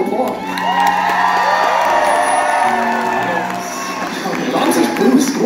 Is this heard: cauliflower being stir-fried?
no